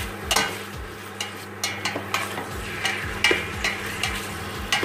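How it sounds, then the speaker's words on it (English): Pork pieces fry for goulash, a soft background sizzle punctuated by irregular spatula scrapes and knocks on the pan, moderately close and fairly quiet. "We will fry the meat."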